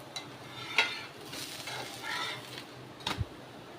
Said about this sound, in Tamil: இந்த சைடு சிம்மில் வச்சு ரெண்டு நிமிஷம் பொரிய விடுங்க